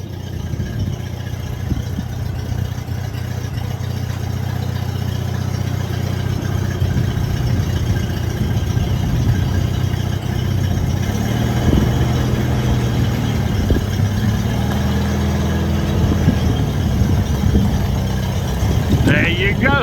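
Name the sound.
old tractor engine running after 20 years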